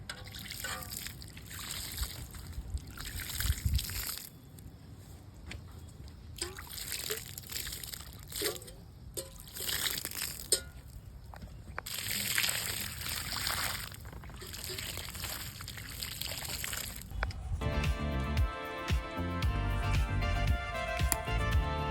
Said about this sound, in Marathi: आता थोडं थोडं पाणी देणार आहे